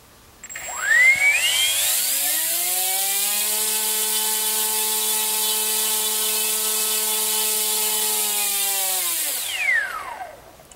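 A ZMR 1804 2400kv brushless drone motor on a thrust test stand spins up at 50% throttle, holds a steady, loud, close whine for about eight seconds, then winds down.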